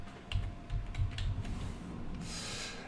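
Keys clack on a computer keyboard in a quick burst of separate taps, close and fairly quiet, then fade into a soft hiss.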